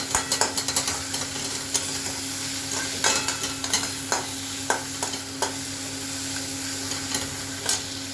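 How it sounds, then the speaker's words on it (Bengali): Spice masala fries in a pan with a continuous close sizzle, while a spoon scrapes and stirs through it in irregular knocks and clinks. "তারপরে নাড়াচাড়া করবো সুন্দর করে"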